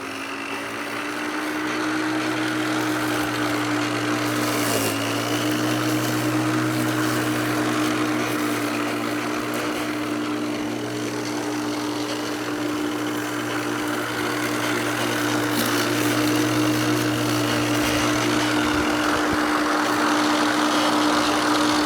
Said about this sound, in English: You want to see this silly little mower work?